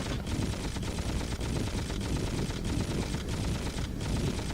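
In the N64 rail shooter Knife Edge: Nose Gunner, guns fire in a dense, continuous barrage, with regular louder bursts about every half second under constant noise.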